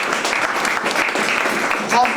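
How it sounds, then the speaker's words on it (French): A crowd applauds the volunteers of Château des Anges at a weekend event at the Château de Nilvange, dense clapping that goes on loudly and evenly throughout, with voices mixed in. "je crois vraiment qu'on peut applaudir Céline, Joseph et l'ensemble des bénévoles du Château des Anges."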